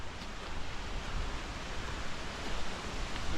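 A waterfall on a mountain trail near Mont Valier in the Pyrenees, heard as a steady, broad rushing roar of falling water, fairly loud and constant with no voices.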